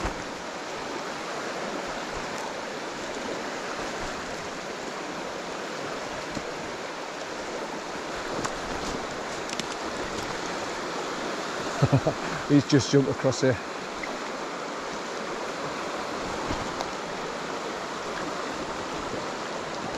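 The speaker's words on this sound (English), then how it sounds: "So the pathways are starting to get flooded, look, because the river's burst its banks." A river that has burst its banks at Allensford Park rushes steadily past flooded pathways, a constant broad roar of flowing water. Someone speaks briefly partway through, with a few light knocks.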